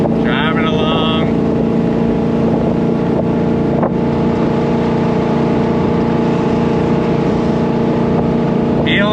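A 1966 Chevrolet Corvette Stingray drives along with a steady, close engine drone and some wind rush. A brief higher tone sounds near the start.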